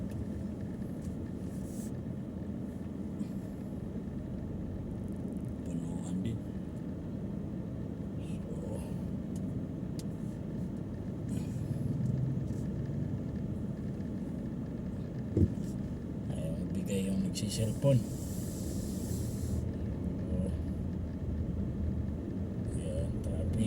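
Steady low rumble of a car creeping through city traffic near a Riyadh mall, a continuous engine and road drone with occasional brief knocks, while people talk inside the vehicle.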